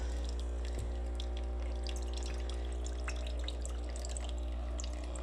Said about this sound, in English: Then it's going to release the hot water